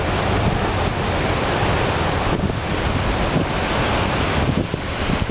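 Floodwater on the Vistula river in Kraków rushes high beneath a bridge, a dense, continuous roar mixed with heavy wind buffeting the microphone, loud and steady with no speech.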